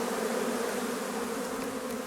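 A swarm of honeybees carrying pollen balls on their legs fans its wings, making a steady, dense buzzing drone that holds close and even throughout.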